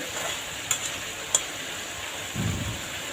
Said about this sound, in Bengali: আমার আব্বু ভালো মতন এগুলোকে এপাশ পাশ করে নাড়াচাড়া দিচ্ছে